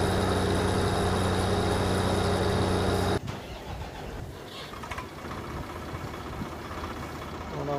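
A tractor's engine runs steadily and loudly at first, then cuts out abruptly about three seconds in, leaving quieter low rumbling and background noise as the tractor is being parked.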